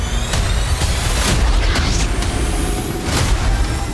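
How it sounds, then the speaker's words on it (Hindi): Drone-attack explosions at Lipetsk airfield land as several deep, dull booms over a continuous broadband roar, loud and somewhat distant, with no speech. "पहला धमाका लिपेत्स्क एयरफील्ड पर हुआ"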